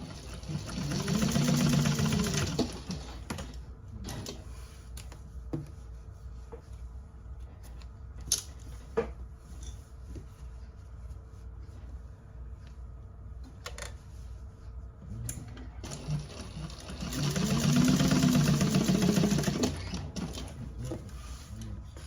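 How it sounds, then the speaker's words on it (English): A sewing machine stitches along the top edges of a handbag slip pocket in two loud whirring runs at the start and end, with quiet clicks and fabric handling between them. "we're gonna stitch it up top along the edges there where it's connecting"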